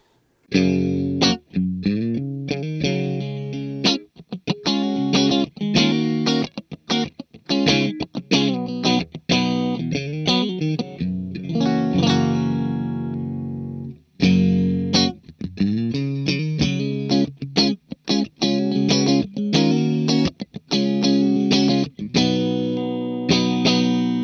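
Electric guitar chords strummed on a Stratocaster with all three pickups combined, in choppy bursts, bright and full, with a short pause midway before the playing resumes.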